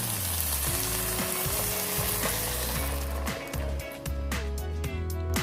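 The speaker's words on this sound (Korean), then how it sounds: "간장과 후추의 맛이 잘 배도록 한번 볶아주세요" Canned tuna seasoned with soy sauce and pepper sizzles steadily in a pan as it is stir-fried, with scraping stirs and faint background music throughout.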